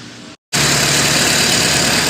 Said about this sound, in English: we're going to let this car run